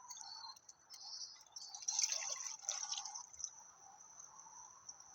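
Water trickles and splashes into a can outdoors in the woods for a few seconds, a thin ringing stream that swells in the middle, heard close and fairly quiet.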